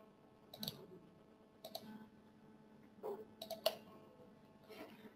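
Computer mouse clicks from a desktop session, a few sharp, isolated clicks spaced unevenly across a quiet background with faint room noise.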